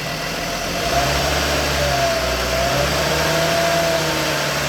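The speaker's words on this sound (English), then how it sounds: "All right, here comes the rev." Car engine raised to a steady fast idle around 1,000–1,500 rpm while its AC compressor runs during refrigerant charging, a continuous mid-pitched hum with a faint whine, close and constant throughout.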